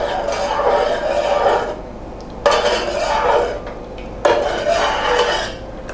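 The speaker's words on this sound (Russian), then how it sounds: "Это все размешивается." A spoon stirs Udmurt viburnum kissel with sugar in a pot, making three long bursts of close scraping and clinking of metal against cookware, separated by short pauses.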